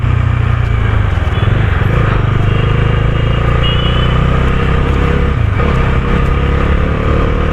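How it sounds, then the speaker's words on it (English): Stock exhaust of a Bajaj Dominar 250, a 250cc power cruiser motorcycle, droning loud and bassy under steady riding on a city street, with a continuous low engine rumble throughout and no voices. "it's very much bassy, and it's actually pretty loud as a stock exhaust"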